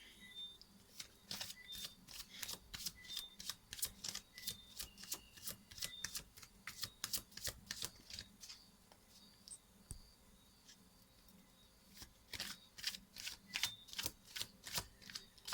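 Tarot cards being shuffled in rapid bursts of crisp riffling clicks, close and fairly quiet, with short pauses between runs and no talking.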